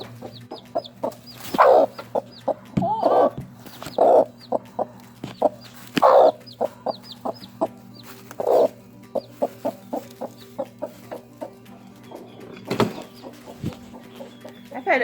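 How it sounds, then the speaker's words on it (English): A protective broody mother hen clucks repeatedly in short, sharp bursts at an uneven rhythm, close by over a steady low background hum. "You don't want to mess with this chicken."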